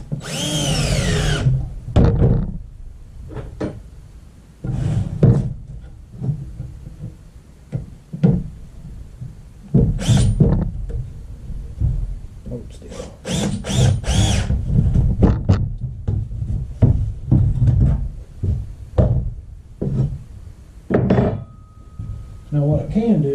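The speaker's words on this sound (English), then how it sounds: "I am going to go ahead and start a screw in here" A power drill drives a screw into wood while a raised planter is being built: repeated close whirring bursts of varying length, with knocks and thuds of the boards in between and a person talking at times.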